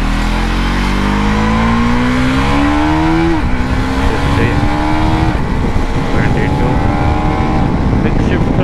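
A KTM Duke 390 motorcycle accelerates hard from a standstill with a quickshifter, the engine note rising through quick upshifts, loud over constant wind rush.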